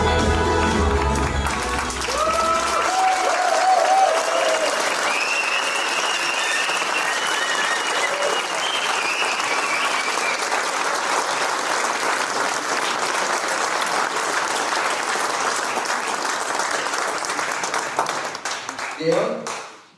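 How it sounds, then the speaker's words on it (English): Sustained audience applause at a product launch event, dense and loud, with some cheering at the start, continuing steadily before tapering and cutting off at the end. "by the sound of this applause"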